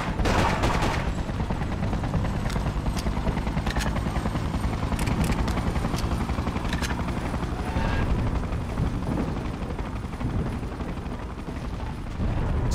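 Gunfire aimed at soldiers in the video game Freedom Fighters, rapid bursts of shots over a constant loud rumble of battle noise.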